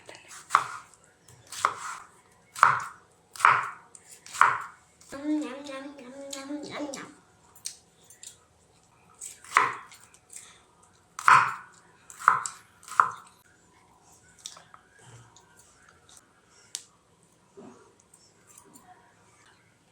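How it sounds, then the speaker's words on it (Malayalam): Cucumber is chopped with a knife on a board in irregular bursts of crisp, close knocks, with a brief squeaky scrape in between and quieter taps trailing off. "ഇനി നമ്മുടെ കുക്കുംബർ അരിഞ്ഞെടുക്കാവേ"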